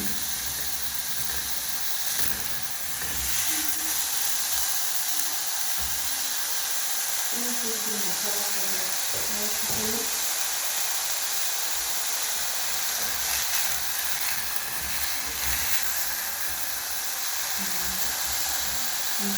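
Brown rice sizzling as it cooks in a hot pan on a fairly high flame: a constant loud hiss and crackle runs throughout, with a faint voice briefly audible beneath it.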